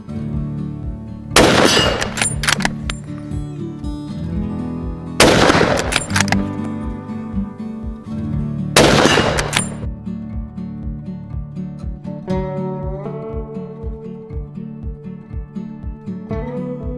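Three loud, heavy rifle shots from a Weatherby Vanguard stainless synthetic .300 Win Mag, evenly spaced a few seconds apart, each with a long booming decay, followed by steady background music.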